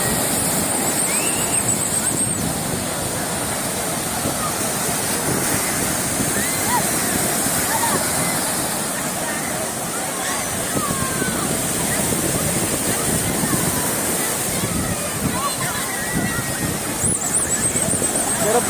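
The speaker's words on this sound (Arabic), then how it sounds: "البحر يا جماعة،" Sea waves break on a beach in a continuous loud roar of surf, mixed with wind buffeting the microphone, while people talk nearby.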